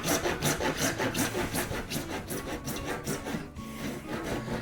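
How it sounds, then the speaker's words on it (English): Japanese pull saw cutting through conduit pipe, with rhythmic back-and-forth rasping strokes at a steady pace, close and moderately quiet, with no voices. "Interesting thing about a Japanese saw is it doesn't cut on the push, it actually cuts as you pull."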